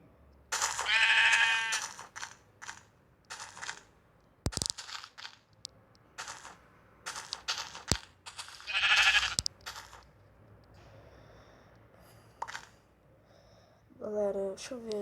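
Sheep bleat in Minecraft, two drawn-out bleats a few seconds apart among crunching and tearing game sounds, while someone talks over parts of the scene.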